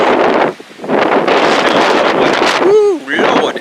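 Strong wind gusts roar across an empty beach ahead of a storm, a loud, steady buffeting rush with a short lull, ending with a brief high whistling sweep over continued blustering.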